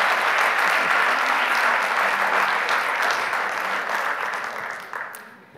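Audience applause for the final panel of a conference day, a full sustained crowd clapping that stays loud, then thins and fades out near the end.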